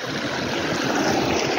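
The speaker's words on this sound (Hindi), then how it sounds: "यहाँ से पानी आ रहा है देख सकते हैं आप लोग" Water rushes steadily from an irrigation channel in a village toward farm fields, a loud, continuous broadband gush that stays close and unbroken with no voices.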